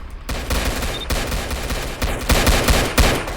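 Roblox police-patrol gameplay erupts in dense rapid gunfire shot from a van, loud and continuous like a fusillade, with no speech over it.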